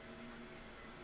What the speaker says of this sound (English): sorry if you can hear the vacuum